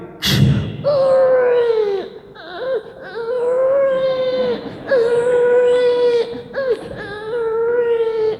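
A voice imitates a newborn baby crying during an Islamic religious talk, giving a series of loud, wailing infant-like cries with short catches of breath between them, close and alone.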